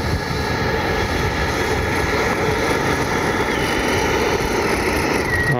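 A Freewing MiG-29 RC model jet with twin 80mm ducted fans drones continuously overhead, a steady loud whine with a constant roar and high-pitched turbine tone throughout.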